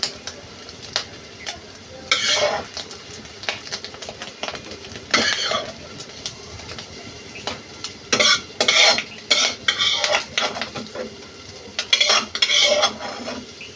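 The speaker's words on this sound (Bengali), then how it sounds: "এর পরপর আমি সব ডিমগুলো এভাবে ভাজি করে নেব" Eggs fry in oil in a pan, a steady soft sizzle under repeated bursts of spatula scraping and clinking against the metal at irregular intervals, close and moderately loud with no talk.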